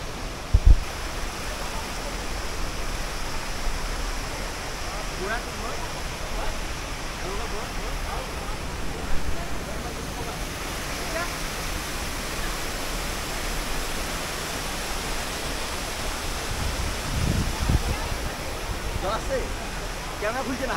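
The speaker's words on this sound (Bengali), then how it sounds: "ঝর্ণাটা বিশাল।" A large waterfall near Gangtok in East Sikkim in winter roars as a steady, dense rush of falling water close by, with a few faint voices underneath.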